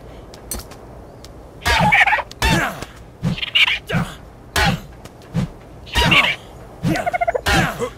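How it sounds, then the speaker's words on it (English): Dodo birds in the video game ARK: Survival Evolved give a run of repeated short clucking, gobbling calls in bursts of about one second, fairly loud and close over steady game ambience. "there's dodo birds"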